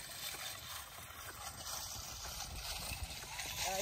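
Horse hooves clip-clopping at some distance outdoors, a faint, irregular run of muffled hoofbeats under steady background hiss.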